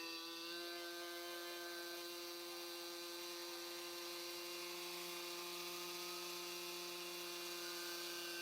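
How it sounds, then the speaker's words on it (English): A Miniature Aircraft X-Cell 60 model helicopter's glow engine runs with a steady, loud, high-pitched whine and buzz, holding constant throughout with no voices. "we're going to go ahead and throttle up a little bit"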